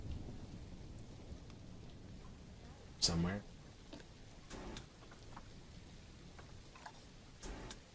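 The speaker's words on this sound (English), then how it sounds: "It's raining." Rain falls in the zoo-building video game Planet Zoo as a soft, steady patter, with a few louder thunder-like bursts and a person talking over it.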